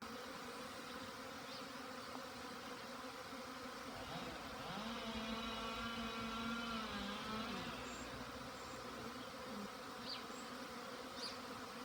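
Bees buzz steadily around the hive, a constant insect hum with one louder bee droning close by for a few seconds.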